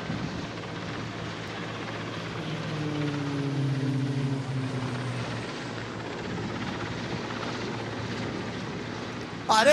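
An air force helicopter used for special forces extraction flies past during a military ceremony, a steady rotor and engine drone that swells and fades over several seconds, with a brief loud knock at the end.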